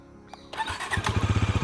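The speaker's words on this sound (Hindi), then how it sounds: "बाइक को स्टार्ट कर लेते हैं, इंजन साउंड सुन लेते हैं" A Bajaj Pulsar NS400 motorcycle starts: a short electric whir, a sudden cough as the engine catches, then a close, steady, throbbing idle with a rapid even pulse.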